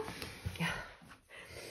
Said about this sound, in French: c'est mon chien que vous entendez derrière, il joue avec son petit jouet